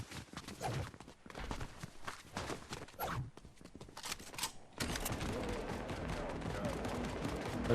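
Gunfire in Fortnite cracks out in a rapid, irregular string of sharp shots, some near and some farther off, before a steadier noisy stretch.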